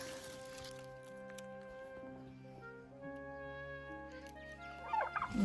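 Turkeys gobble amid a dense, warbling chorus of poultry calls, continuous and fairly close, with a brief louder burst near the end.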